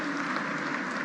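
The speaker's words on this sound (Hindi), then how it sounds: "माधुरी मोहिते को जोरदार तालियां बजनी चाहिए।" Steady, dense applause from a crowd at a public event for Madhuri Mohite, a continuous even wash of clapping with no voices standing out.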